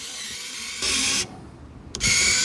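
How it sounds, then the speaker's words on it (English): A SKIL USB rechargeable screwdriver drives a 1/8 bit into a 2x4, giving two loud bursts of whining motor noise separated by a quieter gap, close up with no talking. "Let's try it with the 1/8 bit and see how it does. See if we can get through this 2x4 as well."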